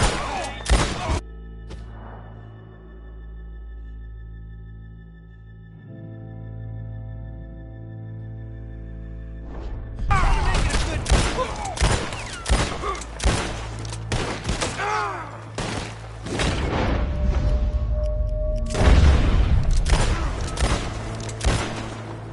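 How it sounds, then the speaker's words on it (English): Gunfire in Red Dead Redemption 2 as a lock is shot, with sustained bursts of loud, close shots over a game soundscape after a calmer stretch with music. "Come on, shoot the lock!"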